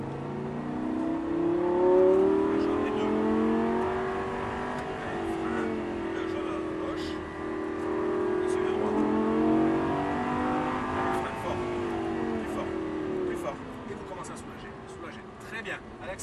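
A Lamborghini Gallardo driven around a race track at a driving school, its engine note climbing and falling through gear changes as it accelerates, heard from inside the car, steady and moderately loud.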